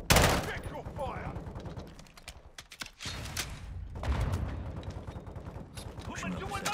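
Gunfire rattles in the video game Call of Duty Modern Warfare II, with dense bursts of rapid shots and mechanical clatter that swell and fade across the clip, mixed with game sounds and background voices.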